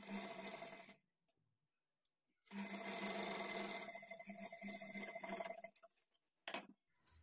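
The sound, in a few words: sewing machine stitching blouse thread piping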